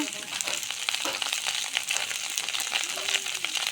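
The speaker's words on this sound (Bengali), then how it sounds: "এবার সুন্দর করে নাড়াচাড়া দিয়ে আমরা ভাজে নিচ্ছি ভাতটা" Cooked rice is stir-fried in oil in a pan, giving a continuous bright sizzle with scraping and stirring noises throughout and no talking.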